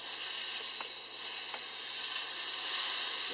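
A thick slice of giant puffball mushroom fries in a pan, giving a steady, close, bright sizzle with no pauses and a couple of faint pops.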